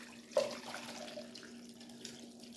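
Boiled ginger pieces are dumped into a strainer, giving a quick splash as the liquid pours off, then a soft, fading trickle, quiet and close.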